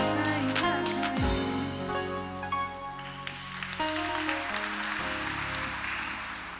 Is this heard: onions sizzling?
no